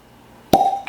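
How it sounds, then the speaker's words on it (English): A single sharp cork pop from an Old Fitzgerald bourbon bottle, followed by a brief ringing, squeaky tone as the stopper comes free, then a faint second clink. "Calls for cork pop."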